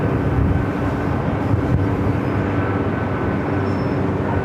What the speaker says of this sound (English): Next arrival is Delta Airlines Flight 479 coming up from Boston at old TWA 757 at 200, 27 years of age